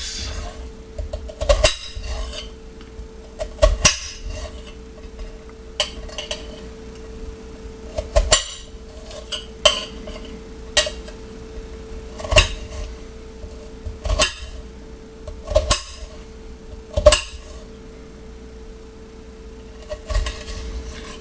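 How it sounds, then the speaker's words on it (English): Knife chopping onion halves on a cutting board, a series of sharp, irregularly spaced knocks and clicks with steady low background hum between strokes, no talking. "I'll go ahead and slice."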